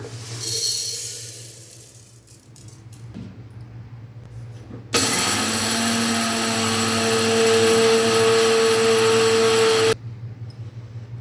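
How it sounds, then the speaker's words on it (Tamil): A mixer grinder whirs steadily for about five seconds as it grinds roasted urad dal in its jar for murukku, a loud, even motor whine that cuts off abruptly; softer kitchen clatter comes before it. "நம்ம இந்த டைமில் அரைச்சி எடுத்துகிட்டு வந்துடலாம் மிக்சி ஜாரில் சேர்த்துக்கலாம்"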